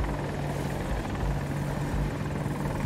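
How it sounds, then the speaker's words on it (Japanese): A helicopter in the video game Battlefield 2042 gives off a constant rotor thrum with rapid rhythmic beating and a low engine drone, close and steady throughout. "いや、ヘリだなあれ。"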